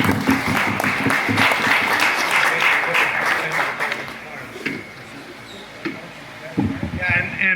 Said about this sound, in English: So a round of applause for Donnie for doing that.